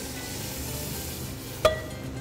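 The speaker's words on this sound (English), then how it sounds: "Now, I'm going to add my hot stock." Hot stock poured into a pan of cooked onions at a convention center kitchen, a soft continuous sizzle with a single sharp clink or splash partway through.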